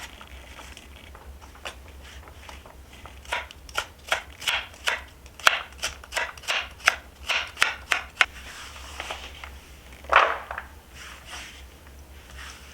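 A knife chops carrots on a cutting board for a veggie stir fry, a quick run of crisp, close taps in an irregular rhythm, then a pause and one last cut.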